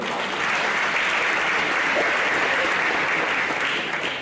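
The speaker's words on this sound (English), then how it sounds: "Please, another round of applause for me." An audience at an induction and oath-taking ceremony for a science laboratory technology faculty gives a sustained round of applause, loud and even throughout, with no speech over the clapping.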